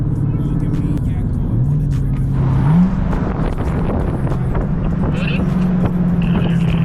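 Dodge Charger 392 Scat Pack V8 pulling hard on a night canyon run, a loud continuous engine drone rising in pitch through the gears, close and steady throughout.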